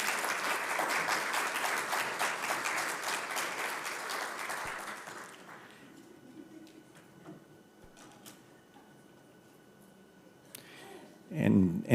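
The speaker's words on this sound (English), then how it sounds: "Big applause." Applause from the audience at a Council of Europe cultural routes event fills the first half, then tapers into scattered claps and quiet room sounds, with a brief voice near the end.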